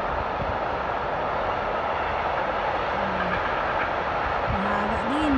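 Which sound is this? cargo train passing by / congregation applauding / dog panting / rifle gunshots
cargo train passing by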